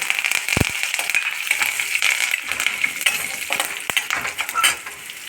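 Curry leaves frying in hot oil in a pan while being stirred, giving a steady crackling sizzle with a sharp metallic clink of the spoon against the pan early on and lighter scraping taps throughout.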